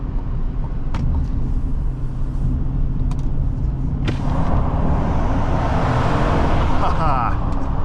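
A 2025 GMC Sierra 1500 SLT pickup accelerating in sport mode, a steady low engine drone and road rumble building beneath occasional clicks, with a person talking over it.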